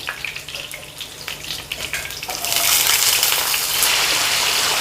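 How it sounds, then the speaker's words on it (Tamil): Finely chopped potatoes hit hot oil in a pan, a loud, steady frying sizzle that swells and becomes denser partway through, with no talking. "இதுக்கு நான் 2 உருளைக்கிழங்கு இந்த மாதிரி பொடிசா கட் பண்ணி எடுத்து வச்சிருக்கேன் அதை சேர்த்துக்குறோம்"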